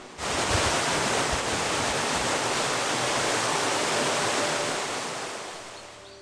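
Shypit waterfall in the Ukrainian Carpathian mountains pours in a steady, dense rush of falling water, loud and close, continuous with no voices.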